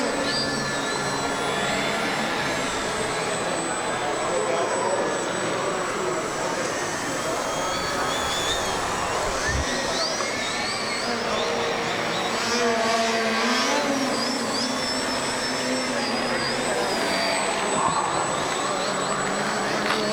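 A TH 39-inch EPP Revolto RC plane flies indoors, its electric motor buzzing and whining steadily as it turns tightly, with the pitch shifting throughout; a person speaks at times over the motor.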